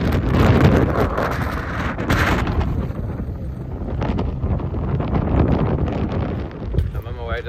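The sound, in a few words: strong wind on the coast at the beach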